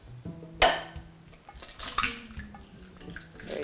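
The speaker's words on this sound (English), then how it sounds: "I'm going to crack two at the same time" Two eggs cracked at once with one hand, a sharp shell crack against a bowl edge followed by soft kitchen clinks and small dripping sounds, close and quiet.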